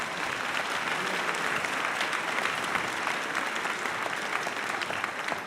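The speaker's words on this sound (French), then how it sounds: "Ah, vous pouvez l'applaudir." Sustained audience applause at a 2014 concert in Cassel where giant-carriers appear on stage, dense clapping from a large crowd lasting the whole stretch with no talk over it.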